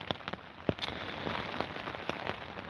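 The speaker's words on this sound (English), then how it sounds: "the rain's quite loud actually" Rain falls loudly on a surface, a constant dense patter broken by sharper individual drop hits scattered throughout, close by and with no voices.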